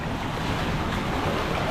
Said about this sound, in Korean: 이거 파당파당 비치는 서핑 비치예요. 여기가 서핑을 하기가 좋은 게 가만히 있으니까 파도가 엄청 세게 들어와요.